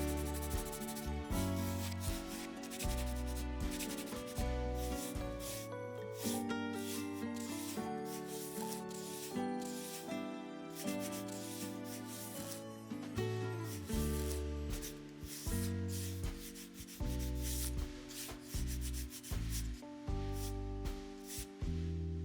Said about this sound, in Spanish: lo voy a lijar con esta lija fina, humedecida para darle la mejor terminación posible